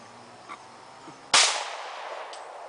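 A single sharp .40 Glock pistol shot fired outdoors at a bottle cap, a sudden loud crack followed by a decaying ring, with a few faint small sounds before it.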